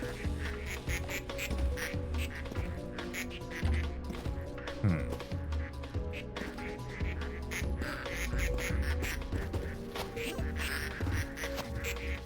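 Many rubber ducks quacking continuously in the factory-builder video game Project PITT, a dense overlapping chorus of squeaky quacks over a busy machine hum, with no talk.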